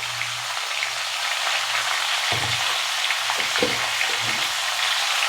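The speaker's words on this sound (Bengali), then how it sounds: "এখন এটাকে আমি একটু নাড়াচাড়া করে নেব" Shukto vegetables sizzle and fry in a pan as they are stirred with salt and turmeric, a steady close crackle with soft scraping stir strokes and faint low thumps.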